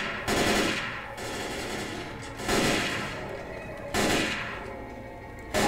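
Bursts of automatic gunfire in the zombie shooter Left 4 Dead 2, three loud rattling volleys about a second long each, separated by brief lulls of quieter in-game ambience.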